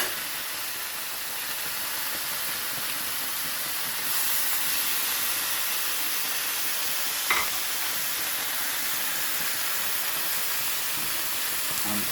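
A wet Jamaican breakfast food hisses and steams steadily in a hot pot, a continuous broad sizzle that holds level throughout with one brief sharper crackle partway through.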